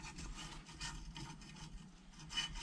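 Honing tool spun inside a motorcycle cylinder, giving a quiet, close scraping rasp in short uneven pulses, heard alone without speech.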